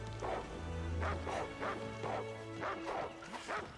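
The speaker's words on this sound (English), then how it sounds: "my dog is fucking barking." A dog barks repeatedly in a quick, uneven series of about seven sharp woofs, moderately close, over a faint low background hum.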